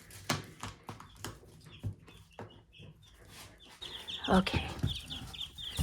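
Chickens cluck and squawk around a hobby farm coop, intermittent close calls with a louder burst near the end, while a person speaks briefly.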